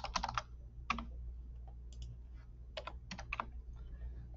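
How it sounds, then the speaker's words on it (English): Keys on a computer keyboard are typed in quick, close, quiet bursts: a cluster of taps at the start, a few single presses, then another short run near the end over faint room hum. "I'm going to type in temperature."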